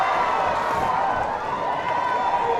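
Loud crowd noise swells throughout a high school basketball game between Jeff Davis and Swainsboro as a player steps to the free-throw line, a dense, steady roar close around with an excited announcer talking over it.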